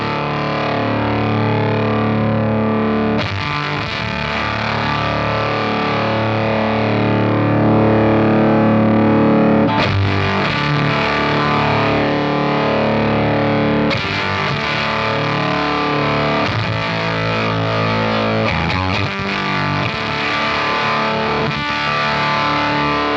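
A guitar through a Grind Fuzz pedal with its bias turned low plays thick, sputtering, collapsing fuzz chords, loud and continuous with a few sharp re-strikes, no voices.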